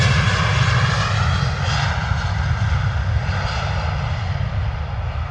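Loud, steady roar of aircraft engines spooling up at London Stansted Airport, with a deep rumble and a hissing whine. It holds without a break as the power stays high, kicking up spray from a wet surface.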